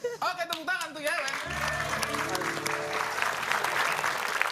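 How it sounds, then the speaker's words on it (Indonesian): An audience claps for a performer named Yewen during a live stream, the applause building after some opening talk and holding as a steady, dense wash to the end. "Oke, tepuk tangan tuh Yewen"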